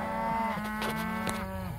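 Cattle lowing in a lane packed tight with animals, one long loud moo with a strong drawn-out tone, close by, with a second call overlapping faintly behind it.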